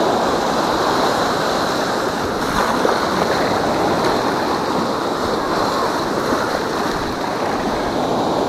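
Sea waves surge and splash continuously onto a beach, a loud steady wash of surf filling the whole stretch with no voices.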